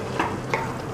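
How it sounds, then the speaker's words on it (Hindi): Mutton masala and garam masala spices are stirred in a hot pan, giving a steady, close sizzle with two sharper scraping strokes of the spoon. "अब इसे चलाएंगे, अच्छे से मिक्स कर देंगे मसालों को।"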